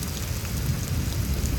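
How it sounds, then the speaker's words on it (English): Heavy rain pours steadily during a Houston thunderstorm, a dense, continuous hiss of downpour with a deep low rumble underneath, loud and unbroken throughout. "like this is pretty high rainfall"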